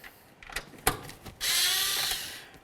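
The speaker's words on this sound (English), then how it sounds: "Let's use a 6mm to remove our 4 mounting bolts for the speaker." A 6mm tool works loose the speaker mounting bolts in a 2006-2010 Ford Explorer door: a few quiet clicks and a sharp tap, then a brief whirring burst.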